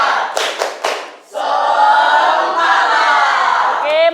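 A school class claps a few rhythmic beats together as an ice breaker, then the students burst into a loud group shout that carries on as a sustained crowd of voices.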